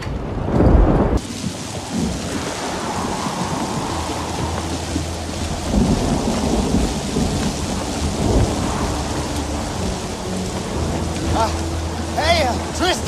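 A thunderstorm outdoors, with a loud crack of thunder at the start followed by steady heavy rain and low rumbling, and a few faint voices near the end.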